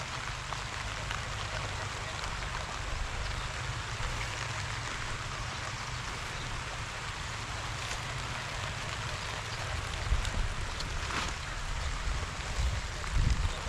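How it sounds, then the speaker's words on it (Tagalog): Rain falls steadily as a dense, even hiss with scattered drop patters, continuous and fairly close, with no clear voices over it. "Naulan na ulan yan oh"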